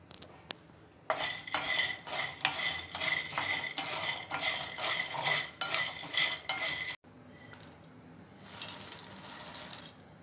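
Soy chunks and large val beans dry roasting in a pan, with a dense run of scraping and rattling stirs against the metal for about six seconds, then a quieter stretch with a softer burst of stirring near the end.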